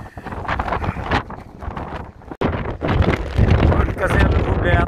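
Strong wind gusts roar across a snowy campsite during tent pitching in a storm, loud and continuous with buffeting bursts, while someone talks over it.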